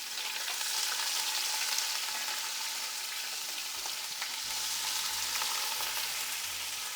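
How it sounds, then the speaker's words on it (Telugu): Onion pieces hiss and sizzle in hot oil in a pan, a steady close frying crackle that runs throughout, with a low rhythmic thumping entering near the end; no one speaks. "ఆయిల్ వేడయింది, ఇందులో ఉల్లిపాయ ముక్కలు వేసుకొని"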